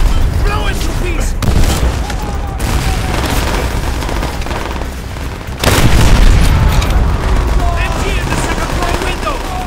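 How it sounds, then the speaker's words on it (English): A fuel tank exploding in World War II shooter World at War, with heavy booms and sustained machine-gun fire in a dense battle din, plus a surge of blasts midway and shouting voices over it. "Exploding the fuel tank will incinerate anyone standing."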